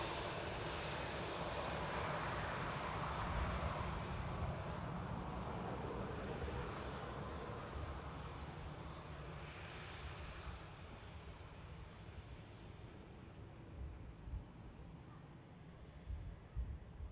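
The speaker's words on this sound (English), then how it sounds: "Just got a decent visual on the EasyJet that's next to come in." An EasyJet airliner on approach to land at Manchester Airport after a short flight from Amsterdam, its engines a steady broadband roar that holds loud through most of the stretch and eases slightly toward the end, with no talk.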